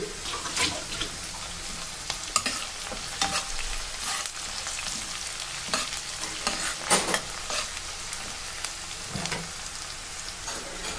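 Onions softened with a little turmeric, then 5-6 crushed garlic cloves, fry in a pan for a bitter gourd (kakarakaya) fry. A steady close sizzle carries scattered stirring scrapes and clinks throughout, with no talk.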